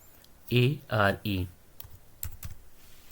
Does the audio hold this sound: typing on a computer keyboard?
yes